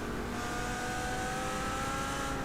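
GT3 race cars in a racing game at the Spa circuit, engines droning steadily at high revs, a dense continuous roar with no pause.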